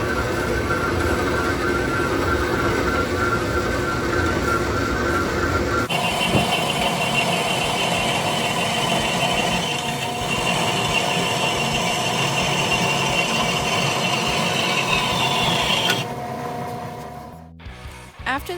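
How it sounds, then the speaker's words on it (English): A power saw cutting a clean channel around a part rotated on a previously drilled hole, a loud continuous whining drone whose pitch shifts as it bites, ending in a sudden drop near the finish. "we use one of the previously drilled holes to rotate the part around the blade of the saw in order to make a clean cut around."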